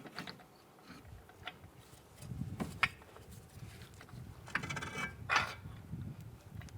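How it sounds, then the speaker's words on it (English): A CV axle being pushed through the wheel hub of a 2012-2017 Toyota Camry, heard as soft mechanical knocks, scrapes and metallic clicks at close range with uneven bursts and no talk. "we're going to push our CV axle through"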